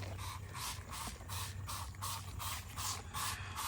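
A hand pump sprayer spritzes bug spray onto squash bugs in a garden, producing about nine short hissing bursts in a fast, even rhythm, close up and alone.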